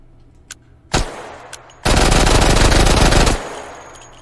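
Gunfire from a heavy-recoil weapon with a foregrip in the VR game Hot Dogs, Horseshoes & Hand Grenades: a couple of single loud shots, then a dense, sustained automatic burst of about a second and a half, close and loud with no talking.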